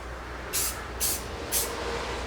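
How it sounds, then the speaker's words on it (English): Three short, evenly spaced bursts of spray paint hiss from an aerosol can onto a wiper arm tip, each under a second, close by over a quiet background. "we're just going to spray the tip"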